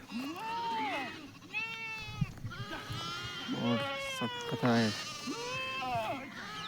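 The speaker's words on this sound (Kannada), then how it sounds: "ಸೊ ಅವೆಲ್ಲ ಕುರಿ ಇವೆಲ್ಲ ಮೇಕೆ" Goats and sheep in a flock penned on a farm field, bleating repeatedly with wavering cries from several animals at varying distances, with a person talking among them.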